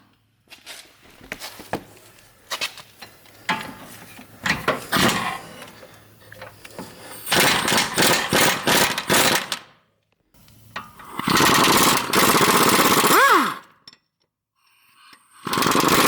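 Power tool working the 18 mm bolt on a 2010–2011 Saab 9-5 front strut: loud rattling hammering bursts of impact chatter, several seconds each, separated by pauses with small clinks and handling noises.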